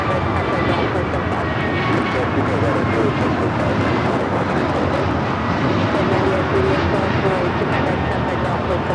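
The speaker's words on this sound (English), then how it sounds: "This takeoff is American Airlines 2998 off to Chicago on the A321neo" An American Airlines A321neo takes off at LAX, its jet engines producing a loud, sustained roar and rumble with wind buffeting across the microphone, while a person speaks over the noise.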